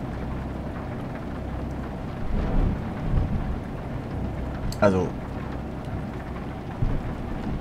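A thunderstorm sweeps over a steep Romanian mountain road, with steady rain hissing throughout and low thunder rumbling in a few swells, while someone speaks briefly over it.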